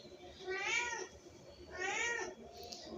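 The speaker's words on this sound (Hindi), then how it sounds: "तो ये म्याऊं म्याऊं म्याऊं म्याऊं किसी की बिल्ली है ये" A Persian cat meows twice, two drawn-out, fairly close calls about a second apart over a quiet background.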